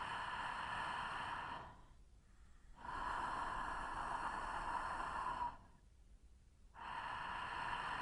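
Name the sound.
breathing with light throat friction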